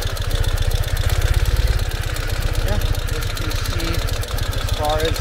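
A 2021 Ural cT sidecar motorcycle engine idles steadily while backing up off-road, with a deep, even, rapid thumping that stays loud and close throughout.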